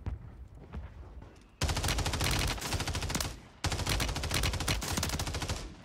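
Rapid full-auto bursts from a Glock pistol fitted with a switch in Warzone 3 on Rebirth Island: a quieter stretch of distant shots, then two long, loud, dense strings of gunfire with a short break between them.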